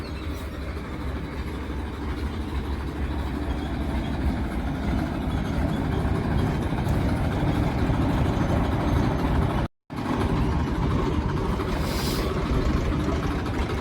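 A tractor hauling a trailer runs its engine while being parked, a loud, steady low diesel rumble close by that continues throughout with only a momentary break.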